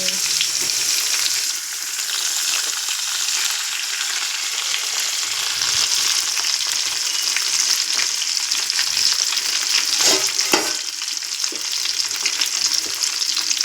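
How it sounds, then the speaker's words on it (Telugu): Eggplant pieces fry in hot oil in a pan, giving a steady, dense sizzle throughout with occasional stirring scrapes and no voices. "ఇలా ఆయిల్లో వేసుకొని ఇంకా వేసుకోవాలి ఫ్రెండ్స్. వంకాయ బాగా రంగు మారేంత వరకు."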